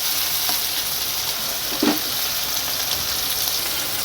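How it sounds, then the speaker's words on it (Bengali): Mourala fish frying in a pan in a village kitchen, giving a steady, close sizzle throughout with a brief louder crackle partway through, no talking. "অন্যদিকে মোরলা মাছগুলো ভেজে নেব"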